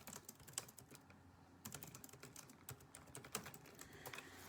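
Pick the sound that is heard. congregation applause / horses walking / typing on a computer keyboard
typing on a computer keyboard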